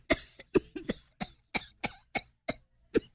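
A woman coughs repeatedly in short, sharp bursts, about a dozen hacking coughs in quick irregular succession, close and alone.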